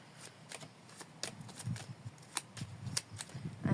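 A deck of tarot cards being cut and handled outdoors under a fig tree, giving a run of quick crisp riffling flicks and soft slaps of card stock that grow slightly louder toward the end.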